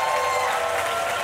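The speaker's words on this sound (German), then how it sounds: "Einen Riesenapplaus" An Oktoberfest audience claps in dense, sustained applause for a team, a loud even wash of many hands with no pauses.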